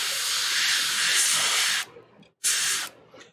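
Airbrush hissing paint onto a Games Workshop Warhammer 40K Magnus the Red model's red skin and wings, a steady close broadband spray for nearly two seconds, a short pause, then another brief burst.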